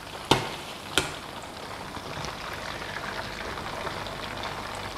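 Eggplant deep-frying in plenty of oil gives a soft, steady sizzle and crackle, with two sharp pops early on, then an even frying hiss at moderate level with no talking.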